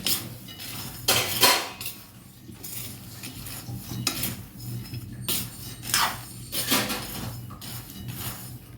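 Peanuts roasting in a pan being stirred, dry rattling scrapes and clinks of the spoon against metal coming in irregular loud bursts with quieter shuffling between.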